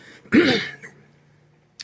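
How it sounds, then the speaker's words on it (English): A single short, close throat clearing, a rough guttural rasp lasting under half a second, then quiet. "clear my throat"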